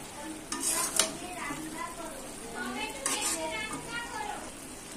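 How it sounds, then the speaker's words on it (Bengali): A curry is stirred in a frying pan, with a soft sizzle and clinks of a spoon against the pan, while a voice talks over it at moderate volume. "তরকারিটা নাড়া দিয়ে"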